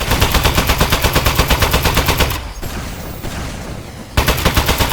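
Rapid automatic gunfire from a gun in the video game Aperture Desk Job: loud, close bursts of evenly spaced shots, a pause of about two seconds, then firing resumes.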